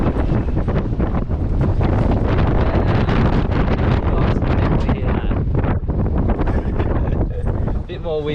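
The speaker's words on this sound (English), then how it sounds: "More wind just then" Strong wind buffets a boat out on open water, a loud, constant roar with rustling gusts that swell and barely ease, and a voice breaking through near the end.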